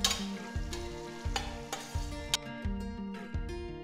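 Steady sizzling of onions sautéing in a pan for mutton biryani, with periodic scraping and stirring strokes, close and clear, no voices.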